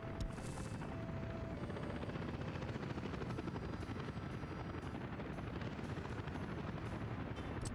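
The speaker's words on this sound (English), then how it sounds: "We're gonna do a nice soft, gentle, slow takeoff" Helicopter lifting off slowly in the Soviet Republic city-building game Workers & Resources, a steady, loud rotor roar with dense low thrum that holds evenly throughout, with no voice over it.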